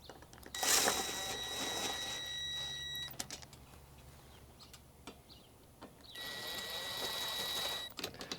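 Power tool snugging the bolts of a Prinsu Pro roof rack on a third-generation Toyota Tacoma, two sustained whirring bursts of about two and a half and two seconds with a quieter pause between, close and loud with no talk.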